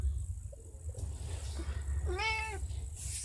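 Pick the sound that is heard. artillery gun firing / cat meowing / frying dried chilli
cat meowing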